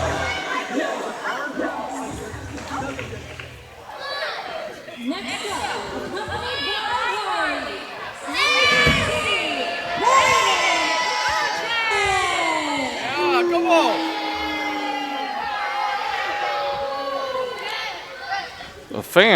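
Wrestling crowd at a New Era Wrestling event reacting to a wrestler's entrance, a continuous murmur of chatter, shouts and jeers from many fans, with voices of talk mixed in throughout.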